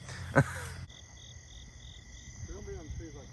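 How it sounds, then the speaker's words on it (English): Frogs call in a dense night chorus along a hiking trail, repeated croaks and pulsed trills layered over steady insect buzzing, with a sharp nearby knock at the start and a brief rising vocal-like call later. "this frog sounds, callings are just literally everywhere"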